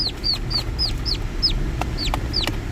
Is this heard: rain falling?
no